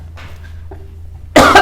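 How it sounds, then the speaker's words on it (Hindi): One sharp, loud cough bursts out at the very end after a near-silent pause that holds only a faint hum. "बहुत है, खांसी आ रहा है।"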